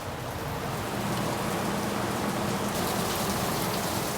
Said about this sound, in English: And that rain is coming down.